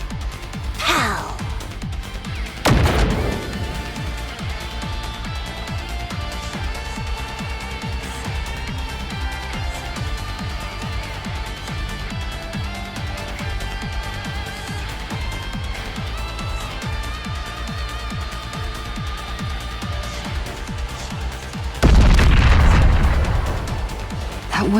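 A bomb attack explodes in the Goddess of Victory: Nikke video game, with two heavy booms near the start and end over continuous game music.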